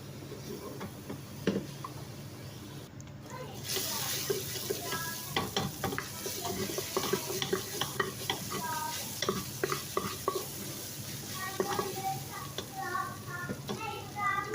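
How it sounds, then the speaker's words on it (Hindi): Two chopped tomatoes frying over medium heat, a continuous sizzle under frequent scraping and tapping of a spoon stirring the pan, with clicks scattered throughout and faint background voice. "ये हमारे पास टमाटर है, 2 टमाटर थे, चॉप कर दिए थे। तीन से 4 मिनट तक इसको भुनाई करेंगे दरमियानी आग पे"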